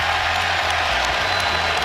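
Basketball arena crowd erupting in dense, steady cheering and applause after free chicken is won for everyone, a loud continuous wash with no gaps.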